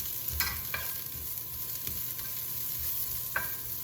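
Mushrooms sauteing in a pan for a cod and fennel dish in white wine butter sauce give a quiet, steady sizzle, broken by a few brief clinks of stirring.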